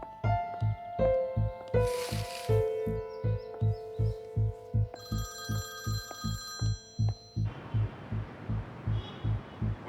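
An old-style telephone bell rings in a home, a rapid pulsing trill repeating steadily under layered musical tones and a brief rising swell, fairly faint and continuous throughout.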